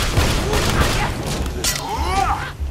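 Pistol gunfire in the video game Borderlands 2: loud, close bursts of shots that run continuously through the short stretch, with a voice talking over them.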